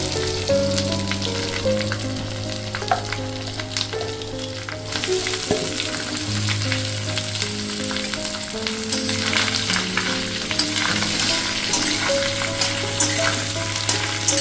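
Pointed gourd (potol) frying in hot oil with ginger paste, a steady, loud crackling sizzle with stirring that runs throughout beneath tonal background music.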